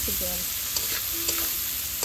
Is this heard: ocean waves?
no